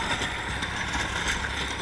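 A Swaraj 742 XT tractor, 45 hp three-cylinder engine of about 3300 cc, runs in low third gear at 1200–1300 rpm with PTO at 540 driving a 6-foot rotavator, giving a steady loud continuous drone.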